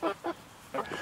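Three or four short, nasal honking calls from Bielefelder chickens in a chicken tractor, close by, spaced in two pairs with quiet gaps between.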